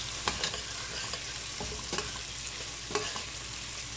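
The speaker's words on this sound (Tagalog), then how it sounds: "Tayo ay nagigisa na." Steady oil sizzle fills a pan as aromatics are sautéed, with occasional stirring scrapes and pops rising over the continuous frying hiss; no talking.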